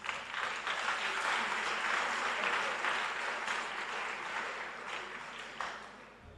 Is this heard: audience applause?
yes